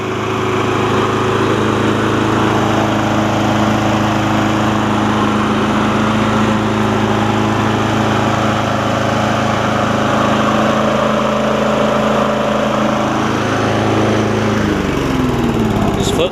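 A Statesman push mower with a Briggs Quantum engine, recently fitted with a new carburetor after sitting a long time, runs in a loud, steady, close drone. Near the end it winds down and its pitch falls as the engine is shut off.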